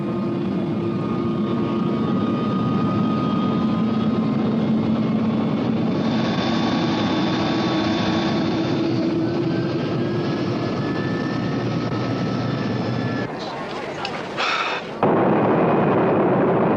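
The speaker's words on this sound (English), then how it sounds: "Flight 608 was about to take off to disaster" Airliner engines roar steadily and loudly during takeoff on a passenger flight, with a dense, continuous rumble and whine that dips briefly near the end before returning at full strength.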